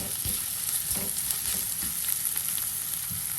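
Ingredients sautéing in a pan with a constant close frying hiss and occasional soft stirring scrapes, steady and unbroken.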